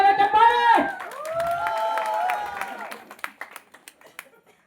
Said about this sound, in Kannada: ಅವರಿಗೆ ಜೋರಾದ ಚಪ್ಪಾಳೆ